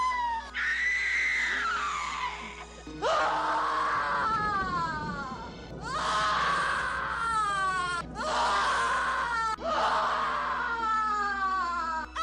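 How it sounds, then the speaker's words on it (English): In the horror film Alucarda, women scream over and over in long, shrill, wavering cries, several voices overlapping in repeated waves over a steady low background drone. "there's a lot of screaming in this movie."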